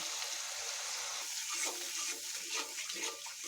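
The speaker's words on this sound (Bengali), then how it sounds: "এবার আমি গুঁড়ো মশলার জলটা দিয়ে দিচ্ছি" Water mixed with ground spices poured into a hot pan over ginger, green chilli and tomato, a soft steady hiss and splash with faint sizzling, quiet throughout.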